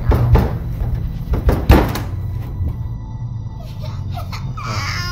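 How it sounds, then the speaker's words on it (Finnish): Loud heavy bangs strike a basement door in a rapid burst within the first two seconds, then fade into a quieter, rumbling background with a few faint knocks. "kellarin ovesta kuuluu yhtäkkiä paukahteleva ääni"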